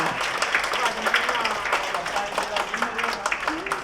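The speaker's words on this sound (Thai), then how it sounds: "ขอเสียงปรบมือดังๆ ต่อเนื่องให้กับทั้งคู่ด้วยค่ะ" An audience applauds steadily at an engagement ceremony in a hotel, a dense continuous patter of clapping while a voice speaks over it.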